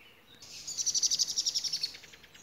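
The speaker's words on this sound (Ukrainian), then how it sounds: "Чуєш, як співають пташки?" A single small bird sings outdoors near a railway line on a hillside, giving a quick run of about a dozen bright, evenly spaced high chirps at moderate distance over quiet background.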